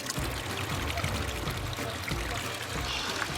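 Gragnano water, a light, low-calcium spring water, pours steadily in a continuous splashing stream, close and fairly loud throughout.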